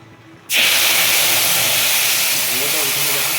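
Spices tipped into hot oil for a koi fish curry burst into a loud, steady sizzle and hiss that starts abruptly and keeps going at full strength.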